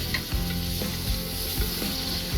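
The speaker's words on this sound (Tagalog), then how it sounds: "ipiprito po muna natin itong sausage" Sliced sausage fries in a pan for Filipino macaroni soup, making a steady close sizzle with a few stirring scrapes and light pops. No one speaks.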